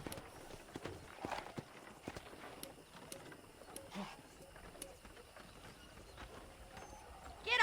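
Steady clip-clop of horse hooves walking at a relaxed pace in the video game Red Dead Redemption, close by, over a faint outdoor background, with a brief brighter sound at the end.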